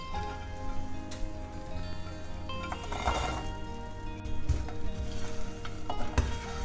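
Toasted walnuts being stirred into melted jaggery (gur) in a pan for a sweet, spicy walnut snack: a steady soft sizzle runs throughout with light scraping and stirring, plus a couple of brief knocks near the end.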